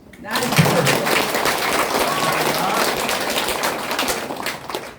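Audience applause at a graduation ceremony for a Christian arts program, a dense, steady wash of many hands clapping that starts abruptly and carries evenly to the end without talk.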